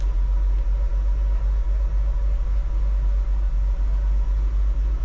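A 1964 Ford F100 pickup truck with points ignition, a manual gearbox and manual steering drives along. Its steady, close, low engine rumble runs unbroken throughout, with no voices.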